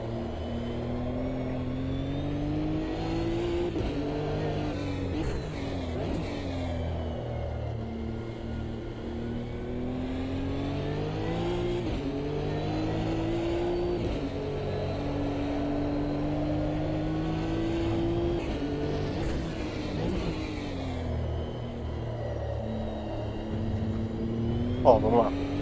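A car laps a racetrack through the Senna S during a driving lesson. The engine drones loudly throughout, its pitch rising and falling with braking and acceleration, and a voice talks over it.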